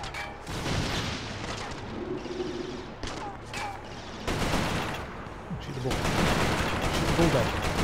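Bursts of video game gunfire and explosions from Resistance: Fall of Man, dense and continuous rattling shots with booming hits, with voices talking over the battle throughout.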